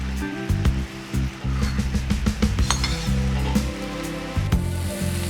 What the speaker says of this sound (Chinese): 翻炒均匀就可以出锅了